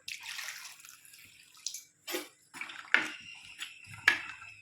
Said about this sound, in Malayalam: ആവശ്യത്തിന് വെള്ളം കൊണ്ട് ഒഴിച്ചു കൊടുക്കാം.